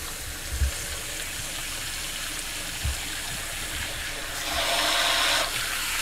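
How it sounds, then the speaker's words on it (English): Running water rinses hair during a spa hair wash, a close, steady gushing stream that swells briefly louder near the end. "as I go and I rinse off that hairline"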